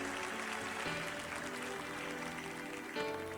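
A church congregation claps together in sustained applause during a worship service, a dense, steady wash of hands filling the room with faint tones from instruments or voices underneath.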